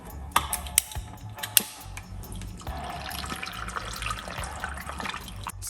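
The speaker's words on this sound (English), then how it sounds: "And then we're gonna get some water." Water poured into a blender jar with ginger and lemon for carrot juice, beginning with a few sharp clinks and taps, then a steady close splashing pour.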